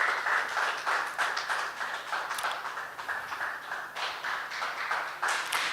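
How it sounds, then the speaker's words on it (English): An audience at a live broadcast event applauds steadily as a guest comes onto the stage, with dense, continuous clapping at a moderate distance and no talking over it. "Let's keep clapping for her as she joins us."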